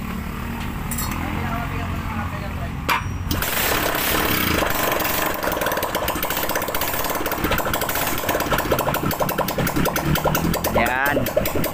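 A Rusi Ruser 135 motorcycle engine cranks over briefly, then catches and runs with a loud, steady, rattling idle close by, a few metallic clinks mixed in.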